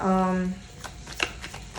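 A tarot deck is shuffled with light, scattered card flicks and slides, close but soft, following a short spoken vocal sound at the start.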